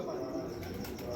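A pigeon from a breeder pair gives a brief, faint coo amid steady background noise, with no clear talk.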